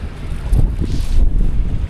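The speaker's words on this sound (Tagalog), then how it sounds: "Malakas po ang hangin dito." Strong wind buffets the microphone outdoors by the water, a steady broadband rumble with gusts swelling and easing throughout, no speech.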